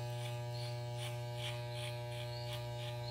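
Up close, an electric hair clipper with no guard cuts a fade, giving a constant loud buzzing hum, with soft pulsing swishes as the blades pass over hair.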